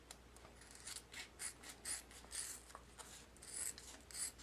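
Scissors cutting a rhinestone tumbler wrap: a faint, close series of short rasping snips and rubs in an uneven rhythm, quiet and alone without speech.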